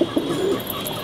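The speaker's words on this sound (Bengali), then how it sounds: "খুবই সুন্দর, খুবই সুন্দর কবুতর" Pigeons in a small loft at a Dhaka pigeon market give low, soft cooing calls close by, with a few short murmured coos in quick succession.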